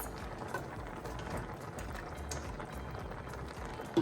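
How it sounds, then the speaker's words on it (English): Frozen meatballs simmering in Italian sauce in a pot, a soft, continuous bubbling and gentle popping, quiet and close, with a small clink right at the end. "let the meatballs simmer in the sauce until they're heated through"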